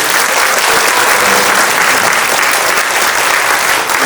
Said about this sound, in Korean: 주인분들께서 박수로 좀 응원을 좀 부탁드리고요